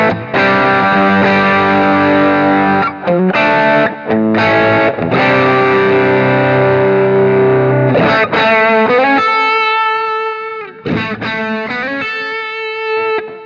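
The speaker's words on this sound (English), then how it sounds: "I'm also going to introduce an overdrive pedal. In this case, it's the Blues Pro Overdrive from MI Audio" Electric guitar runs through an MI Audio Blues Pro Overdrive pedal set with all controls at noon, into a Shift Line Twin MkIIIS tube preamp with cabinet simulation. Loud, crunchy riffs and chords are broken by short stops, and the playing turns brighter toward the end.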